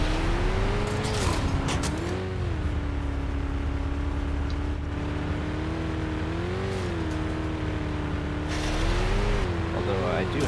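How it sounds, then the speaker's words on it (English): ANT vehicle engine in the video game Planetside 2, a steady loud drone that swells and dips in pitch as it revs, running continuously throughout. "It's really an instance of a garbage truck with, for some reason, like a V18 engine just banging"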